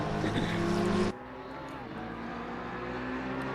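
GT3 race car engines at Indianapolis in Assetto Corsa Competizione, a loud tonal engine whine that cuts off abruptly after a second, followed by a quieter, steady drone of engines with shifting pitch.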